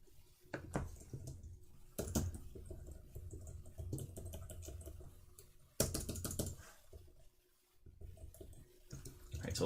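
Steady clatter of typing on a computer keyboard, with continuous rapid keystrokes and a few brief pauses, close and fairly quiet.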